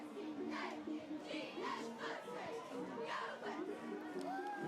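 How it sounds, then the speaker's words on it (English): A home crowd cheers at a high school football game between the Terry Bulldogs and West Jones Mustangs in Mississippi, a steady roar of many voices late in the third quarter, with shouts rising and falling throughout. "Home crowd getting loud, getting excited, cheering on our boys here"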